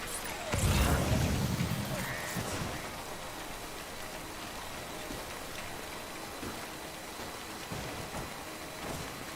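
Timefall rain from the video game Death Stranding falls steadily, with a loud rush of drops near the start that eases into a softer, continuous patter, broken by a few faint thuddy knocks.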